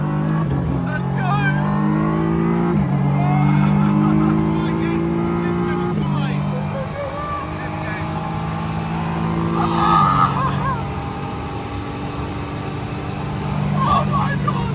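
A Lamborghini powers along a track, its engine climbing in pitch through repeated upshifts, loud and close from inside the car, with excited voices talking over the roar.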